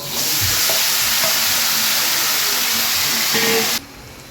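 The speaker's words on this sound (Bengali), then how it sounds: "পেঁয়াজটা তো ভাজা ভাজা হয়ে গেছে। হ্যাঁ, এবার আমি এই মাংসটা দিয়ে দেব।" Chicken pieces drop into a pan of fried onions and sizzle loudly, a steady bright hiss with a few stirring clatters, cutting off abruptly near the end to a quieter background.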